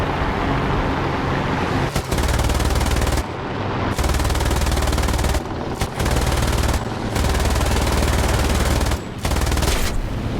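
Long, rapid bursts of aircraft machine-gun fire from a BF 109 E-1 fighter in the combat game War Thunder, separated by brief pauses, with engine drone beneath.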